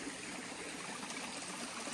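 Water rushing in a mountain stream along the Appalachian Trail, a steady, close, full-bodied roar with bubbling detail and no pauses, alone without voices.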